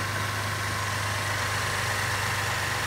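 A 2011 Cadillac CTS engine idles steadily, a smooth low hum with a constant mechanical drone heard up close, even and unbroken, with no talk.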